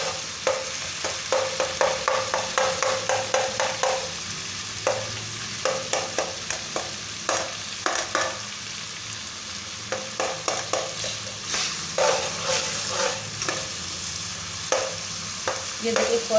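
Tomato masala frying and being stirred in a pan after garlic has browned, for an aloo fry: steady close sizzle with repeated rhythmic scraping strokes of a spoon throughout, no talk.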